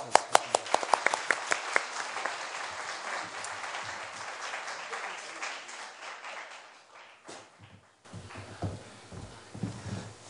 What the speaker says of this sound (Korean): 이상구 교수님을 아주 환영해 박수를 해주세요.